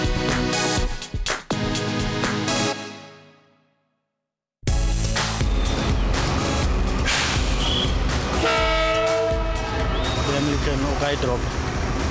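A train horn blasts loudly, cuts to brief silence, then a train rumbles past with rattling wheels and clanking cars, a horn sounding again midway.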